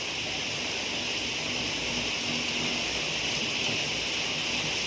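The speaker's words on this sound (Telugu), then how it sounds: "వర్షం ఏమో కొడుతుంది." Rain falling steadily outdoors, a continuous broadband hiss that stays even and fairly close for the whole stretch, with no pauses or distinct drops standing out.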